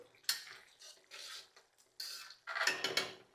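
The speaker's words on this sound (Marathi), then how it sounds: "याला एकदा हलवून घ्यायचं यावर घालूया कोथिंबीर याला मिक्स करू" A spoon scrapes and clinks against a pot of simmering toor dal in short separate strokes, close and fairly quiet, with no talk.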